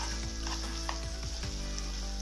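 Achari chicken curry with pickle stirred in, cooking in a pan, giving a steady sizzle and frying hiss with a few scraping stirs of a spoon, close and without talk.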